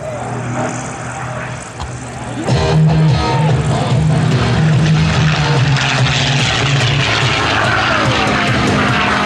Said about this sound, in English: accelerating of over 400 miles per hour, the North American P-51 Mustang